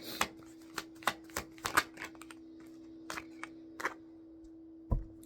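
Tarot cards being shuffled and handled in a quiet room, a run of sharp, irregular papery snaps and flicks with brief pauses between, close and fairly soft.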